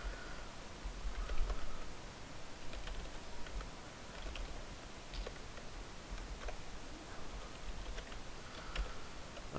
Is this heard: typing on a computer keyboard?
yes